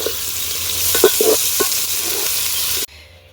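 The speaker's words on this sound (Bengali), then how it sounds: "তেজপাতা, অল্প একটু চিনি দিয়েছিলাম তেলের মধ্যে, তারপরে যে পেঁয়াজ।" Onions and bay leaf with a pinch of sugar fry in a little oil in a kadai over a wood fire outdoors, a loud close sizzle with a few spatula clanks and scrapes, cutting off abruptly near the end.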